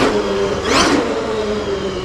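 A Traxxas XRT RC truck with stiff upgraded springs accelerates hard on concrete, its electric motor whirring up in a brief rising whine over steady drivetrain hum, close and fairly loud.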